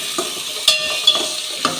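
Mushroom gravy ingredients with cashews and tomatoes sizzle and fry loudly in a close pan, and a spoon scrapes and stirs them with a few sharp clinks.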